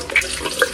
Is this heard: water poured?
yes